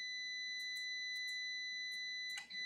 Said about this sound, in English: Are you guys hearing that beep, or is it only just me who's hearing it?